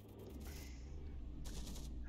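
Belt-fed guns firing in the game From The Depths, a faint, distant rattle of rapid fire that comes in two bursts with a pause between them, over a low rumbling background.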